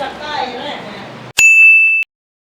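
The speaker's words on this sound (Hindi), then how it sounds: "फोन आ गया" A single electronic ring tone, bright and steady, sounds for under a second right after muffled background noise cuts off, then silence.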